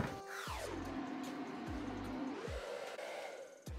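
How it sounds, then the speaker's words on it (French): Hair dryer blowing a steady, close, loud whoosh onto a sneaker coated in thermochromic paint, its pitch sliding down then back up as it is moved, with a few soft thumps underneath. "J'ai appelé ça le test sèche-cheveux."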